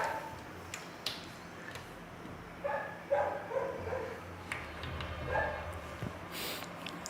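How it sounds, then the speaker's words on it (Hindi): Dogs barking at a distance outdoors, a few faint, scattered barks and yips over a low background hum, with no speech during the barking. "कुत्ते जरा भौंक रहे हैं, थोड़ा आवाज़ आ रही होगी आपको।"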